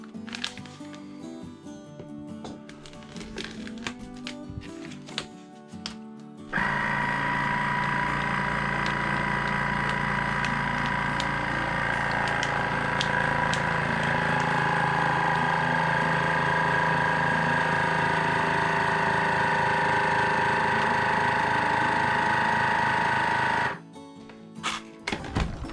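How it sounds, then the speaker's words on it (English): A vacuum sealer's steady mechanical motor drone starts abruptly, runs evenly for about seventeen seconds sealing a bag of toiletries, then cuts off, with faint handling noises before and after. "I'm going to vacuum seal these toiletries"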